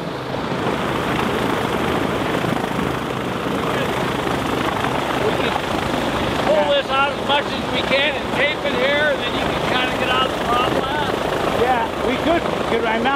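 A Rotax 912 aircraft engine converted to fuel injection runs steadily while warming up after a restart, a loud constant drone throughout, with a person talking over it.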